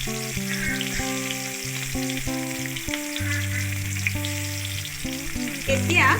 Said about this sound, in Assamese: পাঁচফোৰণকেইটা এনেকৈ ফুটাৰ লগে লগে মই তেজপাত দুটা দি দিছোঁ